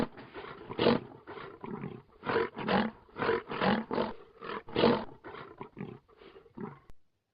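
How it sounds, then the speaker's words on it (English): A lion roars in a long series of deep, rumbling grunting bursts that swell and fade in rhythm, loud and close with nothing else heard, before ending abruptly. "L for lion."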